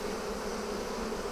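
Honeybees buzz at an opened hive being worked with smoke during a hive split, making a steady, dense, unbroken drone that stays level and fairly soft throughout.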